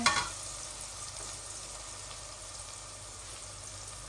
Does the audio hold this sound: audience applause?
no